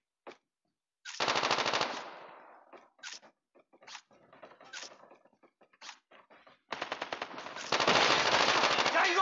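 Type 25 assault rifle in Call of Duty Mobile, heard as close, loud full-auto bursts with a short opening spurt, scattered single shots and clunks, then a long sustained burst at the end.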